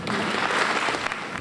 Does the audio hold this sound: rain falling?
no